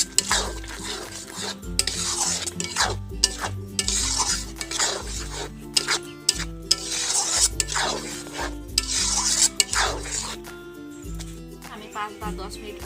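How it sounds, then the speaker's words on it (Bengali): Tomato paste being stirred into fried onions in a pan for an egg curry, rhythmic scraping strokes of a spoon against the pan repeating throughout, with clinks and a soft sizzle, under background music. "পেঁয়াজটা দিয়ে কিন্তু ভালোভাবে কষে নিয়েছি। এখন আমি টমেটো বাটা দেবো।"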